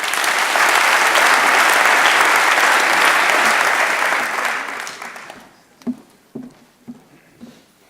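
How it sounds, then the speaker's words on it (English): Audience applause for a guest speaker at a business talk, a dense, loud burst of clapping that fades out after about five seconds, leaving a few scattered claps alone. "give him a big applause from Germany"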